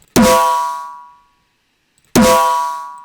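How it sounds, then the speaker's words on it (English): Two hard, metallic deathstep dubstep snare hits about two seconds apart, each a sharp clanging crack with a ringing tail that fades out. "A typical characteristic of this snare is this Deathstep Snare sound."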